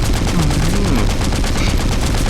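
An M1919 machine gun fires in Into the Dead 2, a dense, continuous burst of loud gunfire filling the whole stretch with no break, with a low rumbling tone sweeping underneath.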